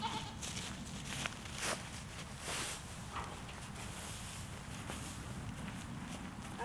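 Pregnant does on a farm, heard around feeding time as hay is brought out, bleat now and then over rustling and shuffling steps, several short calls spread across the stretch at moderate distance.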